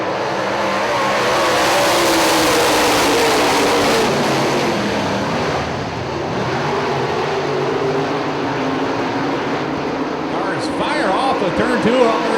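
UMP late model race cars roar away from the green flag in a $6,000 A-main feature at Hartford Speedway, a loud, continuous wall of massed engine noise close by, with an announcer's voice running over it throughout.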